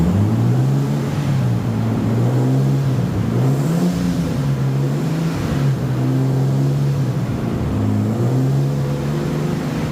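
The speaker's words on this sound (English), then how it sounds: "Running the engine hard the first time after it's rebuilt" A freshly rebuilt car engine on its first hard test run, smoking a little, revs loud and close in repeated rising and falling sweeps, climbing and dropping several times with no talk.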